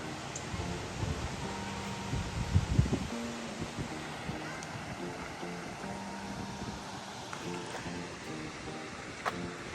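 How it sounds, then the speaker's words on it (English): Waterfalls in a large park in Minneapolis give off a steady, broadband rushing hiss that fills the whole stretch. A brief louder swell comes near the start. "We're back in the waterfalls."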